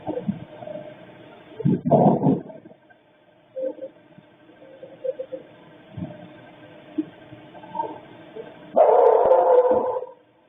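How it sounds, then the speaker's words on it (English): A dog named Murphy barks in a recording, a few muffled barks near the start and a louder burst at the end, with faint scattered noises in between. "Murphy barking at the exact time we hear it on the audio"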